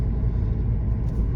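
A Seat Leon FR 2.0 TDI common-rail diesel with 184 hp warms up at idle, a close, steady low rumble that continues alone for a brief moment.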